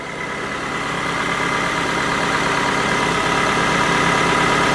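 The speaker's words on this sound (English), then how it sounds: "it's been idling for about 5 minutes" A 2011 Ford Fiesta engine idles steadily under the hood, a close, even rumble with a constant hum that holds level throughout, no voices present.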